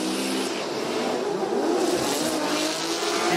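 Drift cars battling at a Formula Drift Japan event, engines screaming at high revs with loud tire squeal and skidding, a continuous roaring wash of noise.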